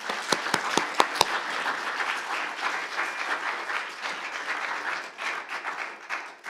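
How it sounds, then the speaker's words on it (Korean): A church congregation applauds to welcome a pastor at a Sunday revival service. A few sharp, close individual claps open a sustained, even round of applause from the whole room. "함께 박수로 환영하도록 하겠습니다."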